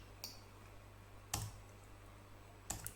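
Enter key pressed on a computer keyboard, a few sharp isolated clicks spaced about a second apart, close and fairly quiet over a low steady hum.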